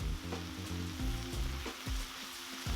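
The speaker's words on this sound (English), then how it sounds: "Now I'm going to stir fry the vegetables until they're good and wilted." Cabbage and vegetables sizzle steadily in a shallow frying pan as they are stir-fried, with a dense, even frying hiss, occasional scraping stirs and low background hum throughout, no voices.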